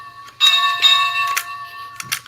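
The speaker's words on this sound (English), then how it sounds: "it sounds like Toby's bell" A Toby toy train bell from Thomas rings with a sustained, bright metallic tone, struck repeatedly in close succession with a few sharper hits near the end, loud and close with no voices.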